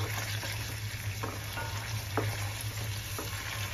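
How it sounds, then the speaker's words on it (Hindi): Chopped onions sautéing in hot oil, a steady close sizzle with a few soft stirring scrapes, no talking. "अनियंस को थोड़ा सॉटे होने तक, इसको थोड़ा पिंक हो जाए, हल्की सी ट्रांसपेरेंट, उस तक इसको हम"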